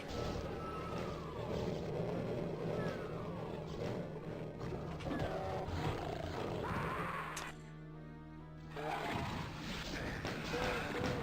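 Pinky demons roar and grunt in the Doom video game on a nightmare difficulty run, with repeated growls and heavy impact crashes over dense game noise and a brief quieter gap near the end.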